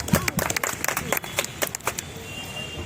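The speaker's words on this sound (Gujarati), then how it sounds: "તાળીઓના ગડગડાટથી વધાવજો ભાઈ" An audience at a social media creators' meetup in a restaurant claps to welcome a guest, with a burst of scattered close handclaps early that thins out toward the end, under faint background murmur.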